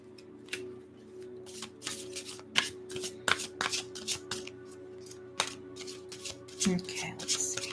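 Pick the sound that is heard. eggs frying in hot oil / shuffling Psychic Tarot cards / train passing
shuffling Psychic Tarot cards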